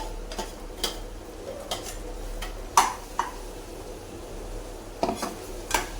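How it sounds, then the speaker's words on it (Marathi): Ground masala paste sautéing in oil in a pot, with a low background sizzle broken by scattered, clear clinks and scrapes of a spoon stirring against the pot. "तर व्यवस्थित आपलं असं वाटण परतून घ्यायचं"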